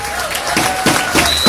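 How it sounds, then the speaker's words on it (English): Spectators at a fight event applaud and cheer, with a dense wash of clapping and crowd noise mixed with speech. "Come on, give it some applause. Give it some applause and support."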